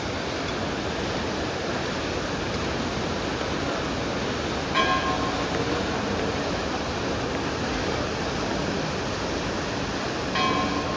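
Fast-flowing Alaknanda river at Badrinath in the Uttarakhand mountains, a steady broadband rush of water filling the whole stretch, with faint bell-like tones ringing briefly in the background.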